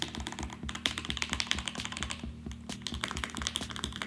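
Quick, crisp keystrokes clatter on a computer keyboard in an uneven run, close and clear over a low steady hum, with no one talking.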